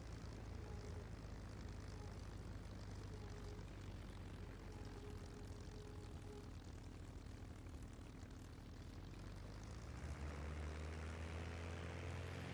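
A propeller aircraft engine drones steadily while taxiing on the ground in the flight combat game IL-2 Great Battles, a constant close hum with audible pitch shifts as the engine note changes near the end, no talking.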